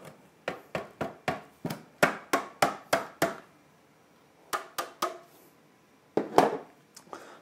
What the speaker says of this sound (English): So let's grate that really finely.